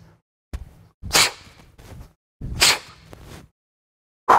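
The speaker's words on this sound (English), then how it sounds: "the scientific expression for forceful exhaling that sounds like this" Two sharp, forceful breaths pushed out hard during kettlebell training, each with a quick rush of air, separated by short pauses and softer breathy noises.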